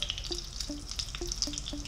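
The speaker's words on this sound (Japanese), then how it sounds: "結構ナスにこう厚みがあるので弱火でじっくりと今日は焼いていきます。" Egg-battered slices of autumn eggplant, made as piccata, pan-fry slowly in oil over low heat, giving a steady close, soft sizzle with light crackling and occasional faint drips.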